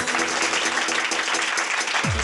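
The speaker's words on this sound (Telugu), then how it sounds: "కాకినాడ కాజా టీం కోసం గట్టిగా చప్పట్లు కొట్టండి." Studio audience giving loud, sustained applause for the Kakinada Kaja team on a Telugu TV game segment, a dense wash of clapping with a brief tonal sweep near the end.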